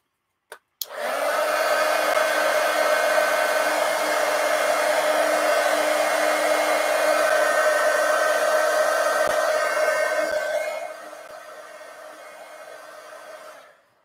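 A hair dryer roars close and steady while drying an ink-covered journal page, switching on after a click, holding a loud even whoosh, then dropping to a lower setting before cutting off.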